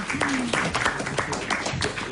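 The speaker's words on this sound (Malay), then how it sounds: "Okey, berikan tepukan." A live audience gives a short round of applause, with scattered claps under overlapping voices and talk throughout.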